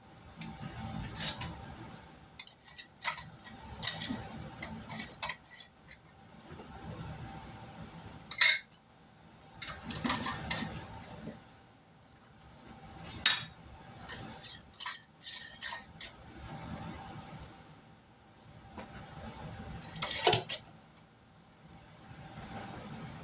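Metal rings being screwed by hand onto glass jars of homemade grape jelly, a series of scattered clinks and scraping metallic rattles in irregular clusters, close and fairly quiet, with no voices.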